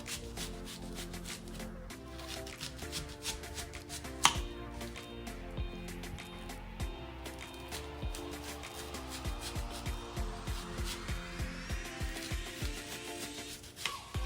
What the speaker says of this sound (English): So I'm going to go ahead and just cut slices like this, but I'm not cutting all the way through.